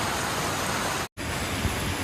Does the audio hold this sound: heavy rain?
yes